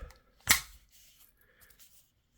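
A Kel-Tec Sub 2000 Gen 2 carbine with a metal 16-inch threaded barrel is unfolded, making one sharp, close mechanical snap followed by faint handling rustles in a quiet room.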